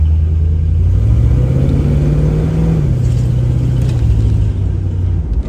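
A 1967 Chevrolet Camaro's engine rumbles loudly from inside the car as it is put in gear and pulls away, the low drone rising in pitch with mild revving before easing off.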